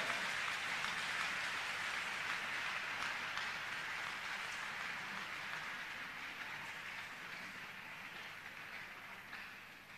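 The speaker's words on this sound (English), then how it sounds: "Clap your hands to the Lord." A church congregation claps hands together at an Easter vigil, a dense, steady wash of many hands that blurs into a rain-like roar and holds for the full length, loud and close, easing off slightly toward the end.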